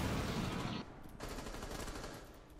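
Gunfire in a tactical team shooter match: a rapid close burst of automatic shots, then a short gap and a second, quieter spray, with no talk over it.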